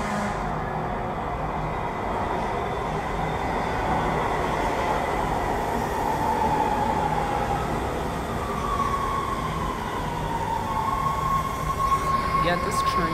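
A train in the Roblox game The Mimic rumbles along steadily and loudly for the whole stretch, with a continuous rolling roar and a faint whine rising partway through.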